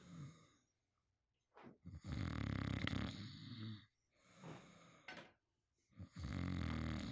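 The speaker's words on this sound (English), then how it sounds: "I have microphoned my boyfriend snoring, sleeping on the couch" A man asleep on a couch snores close to the mic in three long, loud, rasping breaths with quiet gaps between them.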